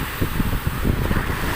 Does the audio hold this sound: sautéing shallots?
no